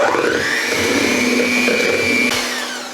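An electric hand mixer whirs steadily through healthy chocolate chip cookie batter in a home kitchen, its motor note holding pitch, then dipping briefly and trailing off, with no one talking.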